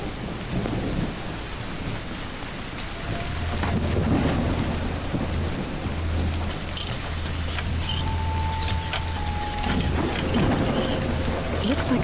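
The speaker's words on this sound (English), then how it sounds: "raining cats and dogs here." Heavy rain pours steadily in the game Call of the Elder Gods, with low thunder rumbling underneath and swelling midway, a continuous dense wash of storm noise with no talk.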